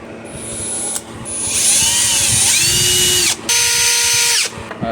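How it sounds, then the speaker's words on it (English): A power drill bores holes in a Sherman front light, its motor whining loudly and steadily up close, with a brief stop in the middle before drilling resumes. "I'll just drill the holes again."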